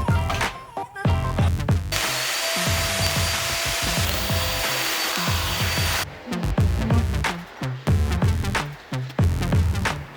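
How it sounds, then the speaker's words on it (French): A hammer drill bores into a thick concrete wall: short choppy bursts, then one loud sustained grinding run of about four seconds, then more stop-start drilling with clattering. "je ne peux pas faire ça avec une perceuse classique. Je suis obligée d'y aller avec le percuteur."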